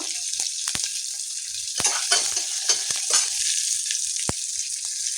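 Dry red chillies sizzling in hot oil for a pappu (dal) tempering, a steady close hiss with occasional sharp pops and crackles and faint stirring, no voices.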